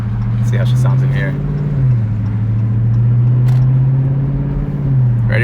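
Car with a mid-muffler delete: a loud, steady low exhaust drone that holds close and constant with slight pitch shifts.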